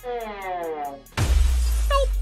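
A glass door shatters with a sudden loud crash after a sustained tonal hum, followed by a dense spray of breaking glass and a brief high ring as the fragments settle.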